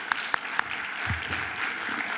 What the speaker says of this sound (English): you deserve a big applaud